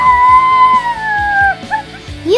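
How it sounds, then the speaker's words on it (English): A dog whines and whimpers in long, high, drawn-out tones broken by short yips, loud and close, with no talking over it. "Paul, now you have a dog too"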